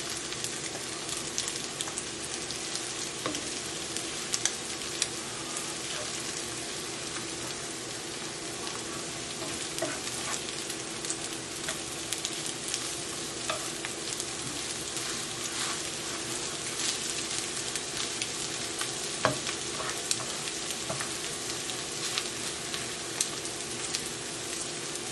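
A pink salmon breakfast omelette sizzles steadily in a frying pan, a continuous close, even crackle with small pops and no voices over roughly twenty-five seconds.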